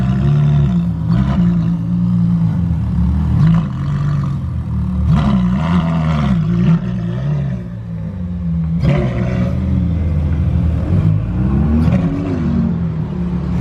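Ferrari Monza SP2 engine in Monaco, a loud, steady roar with rising and falling revs across the clip and sharper bursts near the start and again around the middle, heard close with no talk over it.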